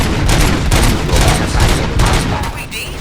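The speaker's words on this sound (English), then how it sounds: "Gunshots? What's going on?" Dense gunfire from the RoboCop Rogue City video game, rapid loud shots overlapping into a continuous fusillade throughout.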